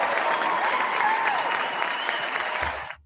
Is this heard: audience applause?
yes